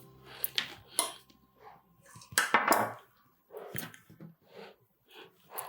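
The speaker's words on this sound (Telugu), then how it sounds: "4 పలకలుగా కట్ చేసుకోండి." A knife cuts a potato mixture into four pieces, giving soft scattered taps and scrapes against a plate or board, with quiet pauses between strokes.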